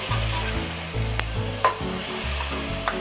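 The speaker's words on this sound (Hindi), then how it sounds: "टमाटर की अच्छी तरह पक जाने तक हम इसकी भुनाई करेंगे।" Chopped tomatoes with coriander powder and spices frying in a pan for a potato, carrot and bean curry, a steady close sizzle with repeated scraping stirs of a spoon against the pan.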